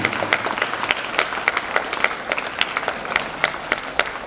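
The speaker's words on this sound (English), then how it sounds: "Let us give a big round of applause and sign off our appreciation" Sharp, scattered claps from an audience at a school Independence Day celebration, a moderate crowd applauding steadily and fairly close.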